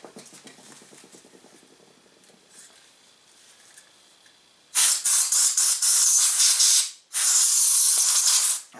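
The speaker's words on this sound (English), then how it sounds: "I'm going to put a couple of drops of oil in here and then spray it with some compressed air" Compressed air sprays into the action of a lever-action rifle after a few drops of oil, two loud sustained hissing blasts with a brief stutter at the start, preceded by a few seconds of near quiet.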